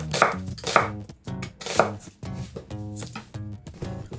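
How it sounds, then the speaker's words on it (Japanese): A knife slices a quarter onion thinly on a cutting board: crisp, evenly spaced chops close by, in steady rhythm with no talking. "皮を剥ぎ取ったら芯を切り落とし、4分の1個を薄切りにする。"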